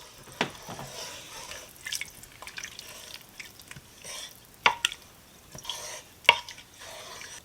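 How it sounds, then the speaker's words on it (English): Eight cups of water are stirred in a soup pot, giving quiet, close sloshing and swirling with a few crisp clinks of a spoon against the pot at irregular intervals. No speech. "And now I'm going to give it a stir."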